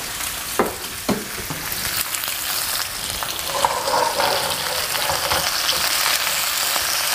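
Mixed vegetables sizzling in a big pan with a steady bright frying hiss, broken by a few scraping stirs and clacks of the spoon near the start.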